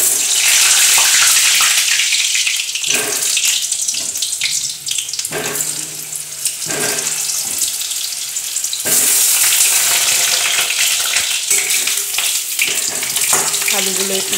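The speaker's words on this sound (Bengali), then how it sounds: "আলুগুলো একটু লাল করে ভেজে নেব" Potatoes frying in hot oil in a wok over a lowered gas flame make a loud, steady, close sizzling hiss with brief dips, and a voice may be faintly present.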